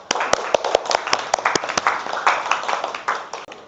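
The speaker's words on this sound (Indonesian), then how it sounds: "Tepuk tangan buat kita semua." A school class claps together, a lively patter of many hands with irregular sharp smacks filling the room for a few seconds.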